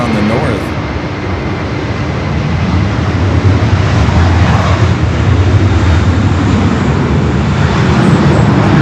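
An Airbus A350 taking off from the north side at LAX makes a steady, loud jet roar that builds slightly and fills the whole stretch, with no talk over it.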